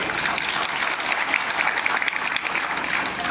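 An audience claps at a rally of villagers displaced by the Dimbhe dam. The applause is steady, dense and fairly loud, lasting the whole stretch with no speech over it.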